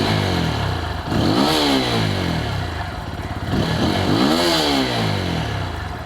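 A Yamaha MT-15 V2 motorcycle engine revs hard twice, each burst climbing sharply in pitch and falling back, loud and close with a steady idle between.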